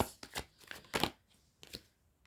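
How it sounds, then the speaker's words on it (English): Tarot cards being shuffled up close: several quick papery riffling bursts, each lasting a fraction of a second, separated by short pauses, with no talking. "I want to shuffle a little bit better just to get the most accurate messages."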